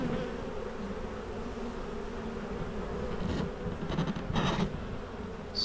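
A honey bee swarm hums in a steady, dense drone close by, with a few louder buzzing surges as bees pass near toward the end.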